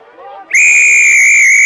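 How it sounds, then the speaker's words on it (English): A referee's whistle at a college rugby match between Vermont and Norwich sounds one loud, sharp, sustained blast held for over a second, right after faint commentary and background murmur. "And it's going to be a whistle."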